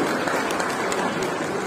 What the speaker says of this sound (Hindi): तालियां जरूर बजाइएगा